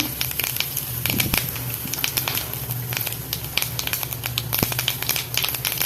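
Mustard and fennel seeds crackle and spatter in hot oil for tomato sambar, a dense, continuous sizzling with scattered sharp pops, close and fairly loud.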